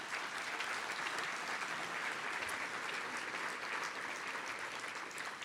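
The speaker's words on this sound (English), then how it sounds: "Can we give them a round of applause?" Audience applause at an awards gathering, steady and even across the whole stretch, with no voices rising above the clapping.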